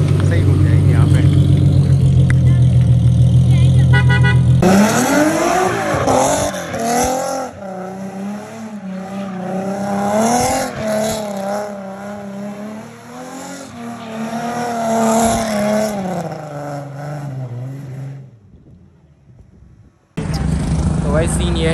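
Mercedes C63 and E63 cars turn on a Karachi race track, their engines droning loud and close with rising and falling pitch through the corners before cutting out near the end and returning abruptly.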